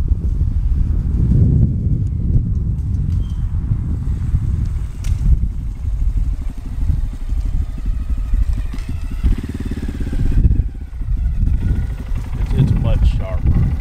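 A Honda Grom motorcycle ridden on a road, its small engine droning and rising in pitch as it comes closer and revs past, loud against microphone wind noise.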